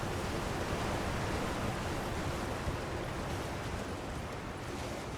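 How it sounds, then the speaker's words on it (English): Steady, full rushing water of a waterfall near Rivermouth in Elden Ring: Shadow of the Erdtree, a constant broadband roar that holds evenly and close throughout with no voices over it. "Right, there's a waterfall."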